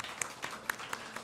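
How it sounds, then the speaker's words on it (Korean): Applause welcoming a newcomer during a Korean church Sunday service, a few faint, scattered claps spaced out over a quiet room rather than full sustained applause. "박수로 환영하겠습니다."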